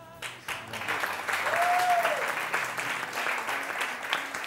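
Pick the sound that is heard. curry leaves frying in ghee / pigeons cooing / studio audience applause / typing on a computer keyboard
studio audience applause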